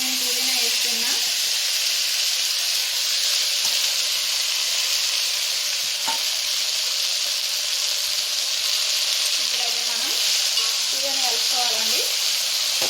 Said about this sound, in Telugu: మంచిగా మొత్తం ఫ్రై ఇదైతే మంచిగా ఫ్రై అవ్వాలి